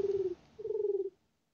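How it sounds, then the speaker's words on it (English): Pigeon cooing in the video game The Supper: two clear, soft low coos, the second longer, close and alone against a quiet background. "Aw, Pigeon."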